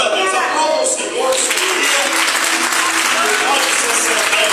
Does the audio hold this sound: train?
no